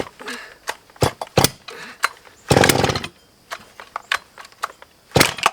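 Stihl chainsaw with a field-repaired broken Elastostart, choke taken off: a string of short, sharp pull-start bursts and brief sputters, close and loud, separated by gaps, with one longer rattling burst in the middle.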